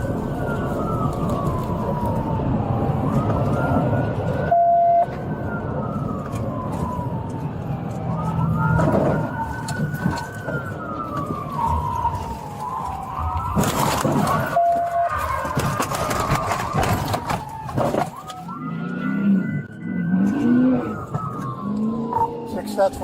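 A police car siren wails in repeated rising and falling sweeps during a vehicle pursuit that ends in a PIT maneuver, with engine noise, sharp impact bursts and voices talking underneath.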